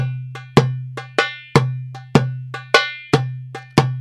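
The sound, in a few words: Khaliji rhythm played on darbuka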